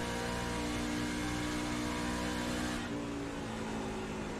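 Race truck engine at full throttle through turns at Darlington from inside the cockpit, a loud, dense, sustained engine roar that drops slightly in brightness near the end, with no talking.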